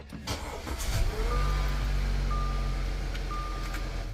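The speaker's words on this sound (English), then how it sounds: "we have to turn the car on first." A car being switched on inside a room during a power outage: a steady low engine hum builds and holds, with faint intermittent electronic beeping over it, no talk.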